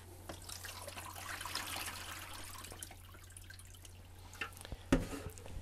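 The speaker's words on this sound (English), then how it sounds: "I'm going to fill this tray. Again, it's all about volume, so I'm going to fill this with this water." Water running and dripping into a darkroom developing tray as it fills, a steady faint trickle with small splashes and a brief louder drip near the end, no talking.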